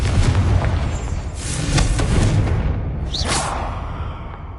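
Spell explosions from the Confringo fire spell in the Hogwarts Legacy video game, heavy booming blasts with whooshing bursts that roll on continuously and loudly, with a sharper swoosh near the end.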